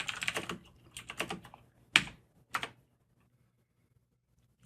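Quick bursts of clicking keystrokes on a computer keyboard, soft and close, pause, then a couple of sharper isolated key taps and a final click, with no talking.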